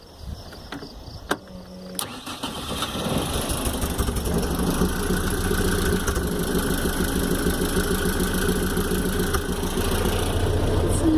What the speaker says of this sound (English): I'll start it up, you can hear it run.